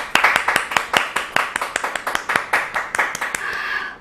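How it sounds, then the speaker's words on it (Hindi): Rhythmic, fairly loud hand clapping at a live event held in honour of a company CMD, with sharp regular claps sustained for about four seconds and no talking over it. "जोरदार तालियां हमारे CMD सर के लिए"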